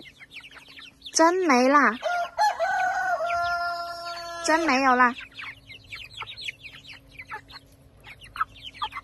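A young rooster chick with a dark, mulberry-like comb crows and clucks loudly in two bursts, warbling calls with a held note between them. A person speaks under and after the calls, and faint chirps continue in the background.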